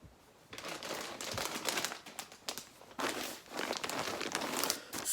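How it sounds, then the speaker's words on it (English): A plastic bag is handled close up, crinkling and rustling almost continuously in irregular bursts, loud and near, with no voices. "sorry for any crinkling"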